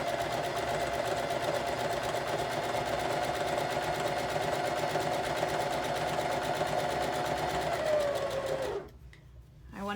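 A sewing machine stitches a quilt block at a steady, slightly slow pace, a continuous close mechanical whir with rapid needle pulses that runs for about nine seconds and then stops abruptly.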